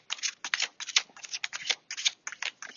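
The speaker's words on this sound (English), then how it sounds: "I'm going to shuffle a couple more times." Rapid riffling of oracle cards being shuffled, crisp papery bursts in quick uneven succession, close and clear with no talking.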